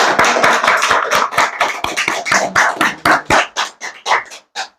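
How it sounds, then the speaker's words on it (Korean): A small group claps together at an election campaign event, close and loud, starting fast and dense, then thinning into slower, separate claps before fading. "박수"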